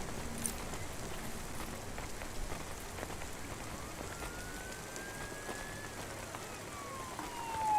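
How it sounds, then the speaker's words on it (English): Steady rain falls across an outdoor street scene in the video game Cloudpunk, a dense, even hiss of drops on hard surfaces throughout, with a faint distant siren sliding in pitch partway through. "Don't let all the rain get you down."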